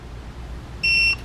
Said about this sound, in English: It'll beep.